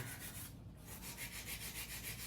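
Acrylic nail being shaped with a 100 grit hand file during a beginner acrylic nail session, giving steady rhythmic scratchy rubbing strokes, close and fairly quiet, with a short pause near the start and no talking.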